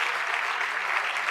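Applause from a breakfast event audience for the singers after their performance, a steady dense wash of clapping heard alone for the whole short stretch.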